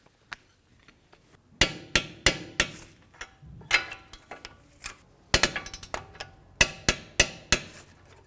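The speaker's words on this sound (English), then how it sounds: "Now let's torque these to 81 foot-pounds." Tightening the strut mounting nuts on a Jeep Compass front strut assembly with a torque wrench, a series of sharp metallic clicks and knocks, some in quick clusters, close and fairly loud against a quiet garage background.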